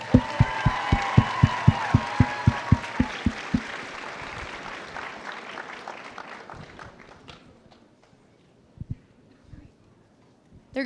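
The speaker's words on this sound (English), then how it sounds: "Let's give them a round of applause." Audience at a cosplay contest at the Indiana Comic Convention claps in rhythmic unison, loud and close at first, then fading into scattered cheers and looser clapping, with a few claps near the end.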